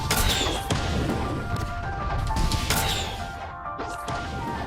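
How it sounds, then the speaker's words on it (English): Loud Blox Fruits explosions from a gun move crash and boom in quick succession over a dense, continuous roar of game noise and ringing tones. "It actually has 2 explosions now when you hit the Z move."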